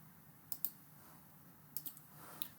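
A computer mouse clicks a few times in quick pairs while navigating Salesforce Lightning, crisp and close against a faint room hum, with no talking.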